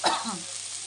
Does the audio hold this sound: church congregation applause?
no